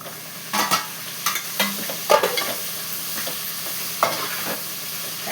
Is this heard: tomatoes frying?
yes